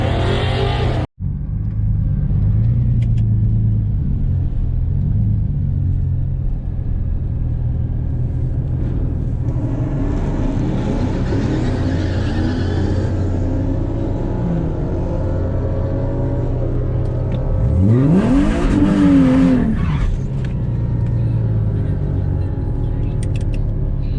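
A Mercedes SLK32 AMG races a turbo Camaro on a hot Florida day, loud engine rumble throughout with two rising high-revving pulls, a sharp knock at the start, and faint talk in the background.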